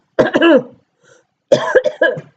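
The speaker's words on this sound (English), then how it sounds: "Sorry for the coughing." Two close, loud bursts of harsh coughing separated by a short pause, with no talking.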